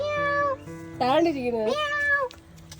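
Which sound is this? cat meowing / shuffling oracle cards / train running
cat meowing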